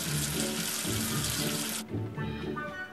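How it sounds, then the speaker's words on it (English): Running tap water rinses soap off a number figure in a children's cartoon bathroom scene, a steady broadband splashing stream that cuts off abruptly near the end, leaving a faint residual trickle. "Wash away the soap with water."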